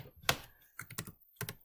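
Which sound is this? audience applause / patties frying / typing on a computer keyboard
typing on a computer keyboard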